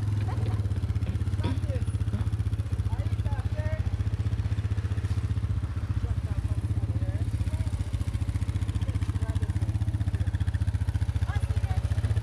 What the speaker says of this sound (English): Dirt bike and stuff.